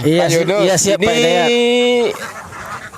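Domestic laying ducks about three months old, kept on a village farm, give loud nasal quacks at close range, mixed with and overlapping a man's speech throughout.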